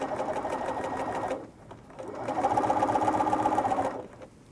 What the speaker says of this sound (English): So do a baby hem all the way around, except for the top of the apron skirt.